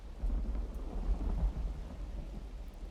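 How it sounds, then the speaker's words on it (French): Low rolling thunder rumbles under steady rain throughout in the city-building game The Universim, loud and continuous with no talk. "il pleut."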